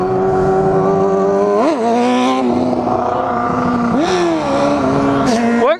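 A Kawasaki Versys motorcycle being ridden at a stunt spot, its engine droning steadily and loud with a few quick revs that rise and fall, no talking heard.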